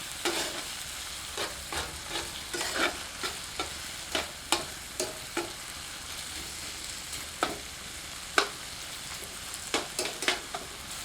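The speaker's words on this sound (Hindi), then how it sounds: "तदुपरांत इसमें बारीक कटा हुआ टमाटर सम्मिलित करते हैं। मिलाकर 2 मिनट मध्यम आंच पर भूनते हैं।" Finely chopped tomatoes sauté over medium heat in a pan for desi chilli paneer, a steady sizzle broken by a string of sharp spatula scrapes and stirring clicks, close and moderately loud.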